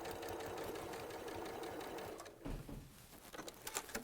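A sewing machine stitches foundation-pieced fabric in a rapid, steady mechanical chatter that stops halfway through, followed by faint handling clicks and rustles, quiet and close.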